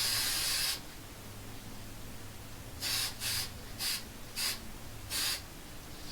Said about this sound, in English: when we apply the fluorescent spray paint to it